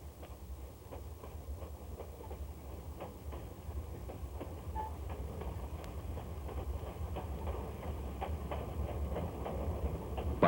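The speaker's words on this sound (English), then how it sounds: "Motor car number 1 lies in the clear at Elk Park to allow the train to pass." The ET&WNC Tweetsie narrow gauge train rolls past at Elk Park, a steady low rumble with faint rhythmic wheel clicks, moderately distant and fairly quiet.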